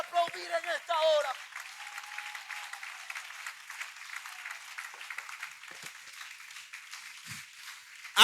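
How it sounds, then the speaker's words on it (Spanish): A church congregation breaks into steady applause that carries on at moderate volume, with a Spanish-speaking voice heard briefly at the start. "¿Alguien puede aplaudir en esta hora?"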